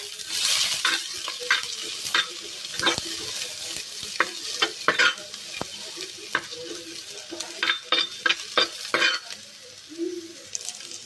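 Onion, grated coconut and chillies frying in oil, a continuous close sizzle broken by frequent scraping strokes of a spatula and light metallic taps against the pan.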